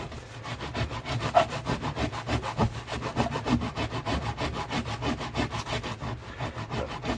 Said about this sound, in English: Now I'm filing at a slight angle